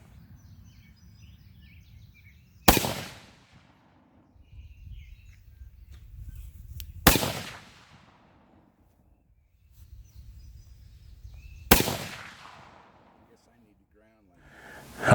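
A 7mm-08 rifle fired at an outdoor shooting range: three loud, sharp shots a few seconds apart, each trailing off in a short echo, with low background rumble between them.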